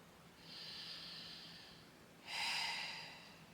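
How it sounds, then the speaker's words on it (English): Deep rib cage breathing in a beginners Pilates class: two long, airy breaths close to the mic, a smooth drawn-out breath followed by a louder, fuller one, with no talking. "And 2 more full breaths."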